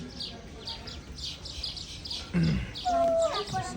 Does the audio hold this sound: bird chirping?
yes